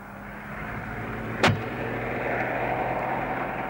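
Road traffic rumbles steadily in the background as a car passes, with a brief sharp swish in the middle of the continuous engine noise.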